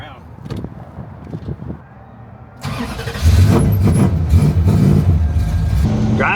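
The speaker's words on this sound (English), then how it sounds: "Driving the Joe Dirt car over to the convention center" The Joe Dirt car, left standing for a long time, starts up and revs loudly as it drives off. A quiet stretch with some talk comes first, then the engine catches and holds a rough, heavy, steady roar.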